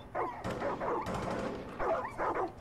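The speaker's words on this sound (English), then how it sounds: "Oh my god, look how many dogs are here." A pack of dogs in Far Cry 5 barks and yips in quick clustered bursts, close and loud, with brief pauses between volleys over a low droning game background.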